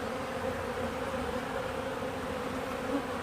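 Honey bees buzz steadily inside a struggling hive during a late-season inspection, a dense, continuous drone close to the microphone with no talk.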